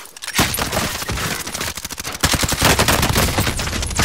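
Rapid automatic gunfire rings out in a Warzone battle, dense bursts of loud cracking shots stacked one after another with barely a pause, close and harsh throughout.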